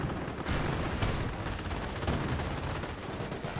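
Sherman Firefly tank guns and surrounding battle fire in a Company of Heroes 1 match, a dense, rumbling wash of shots with a couple of sharper reports, moderately loud.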